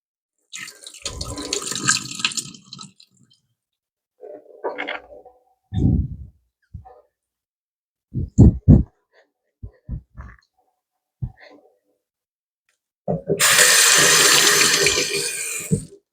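Water pours from a pot into a kitchen sink while draining it, with scattered splashes and clunks giving way to a loud, sustained rush of water at the end.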